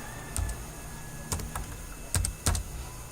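Keystrokes on a computer keyboard while HTML code is typed, coming as a few separate sharp clicks and short bursts with pauses between them, close and clear over a faint steady background hum.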